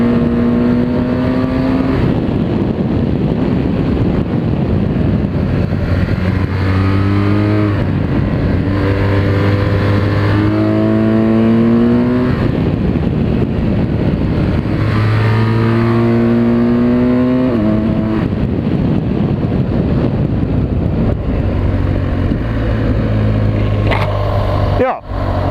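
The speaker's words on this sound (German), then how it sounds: "einmal kurz Gas gegeben." A BMW R 1200 GS Adventure motorcycle engine roars loud and close as it accelerates, with repeated rising pitch sweeps as the rider shifts up through gears, under steady wind rush.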